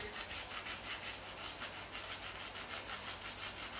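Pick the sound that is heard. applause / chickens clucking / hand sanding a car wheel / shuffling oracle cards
hand sanding a car wheel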